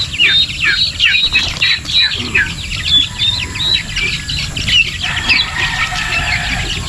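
Chicks and poultry, including hens and turkeys, chirp and cluck together at close range, with a dense run of high peeps over steady clucking and no talk.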